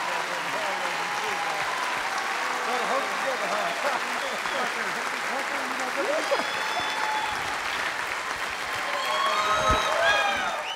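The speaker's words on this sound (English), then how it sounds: "Give him a round of applause." A crowd at the Grand Ole Opry applauds and cheers for a newly inducted member, sustained clapping filling a large hall with whoops and shouts mixed in throughout.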